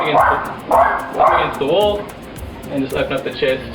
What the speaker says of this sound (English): Sorry about the dog next door.